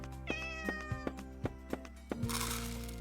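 A cat in the game Amy's Greenmart meows in a quick string of short, clear, high cries over a looping background tune, ending in a brighter burst of game effects.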